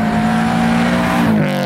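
A loud, close exhaust on a 2022 Subaru BRZ with a Tomei system holding a steady rumbling drone at high revs, then dropping in pitch as the engine eases off near the end.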